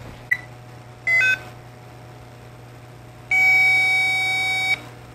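A multimeter in continuity mode on a fuel gauge circuit emits electronic beeps: a tiny click, a short beep, then a longer steady tone lasting over a second, close and clear against quiet background hum.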